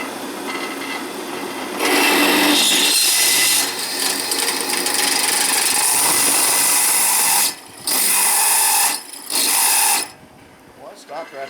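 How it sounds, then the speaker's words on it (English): A power drill boring into a steel truck frame during a Ford F100 build, a loud, grinding whir in long bursts that cut off abruptly twice before the drill stops and quiets near the end. "I think my drill bit got dull."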